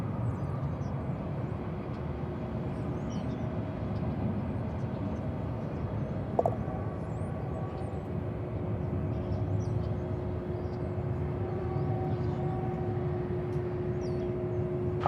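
Airbus A321 jet at Dallas/Fort Worth International Airport, heard as a steady, moderately distant engine drone and broad rumble holding throughout, with faint chirping and a brief sharp click midway.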